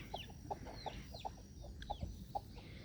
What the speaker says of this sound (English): We had 13 surprise chickens.